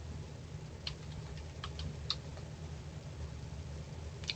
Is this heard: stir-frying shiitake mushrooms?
no